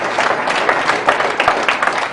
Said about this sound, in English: Give yourself an applause if you've been feeling great doing it.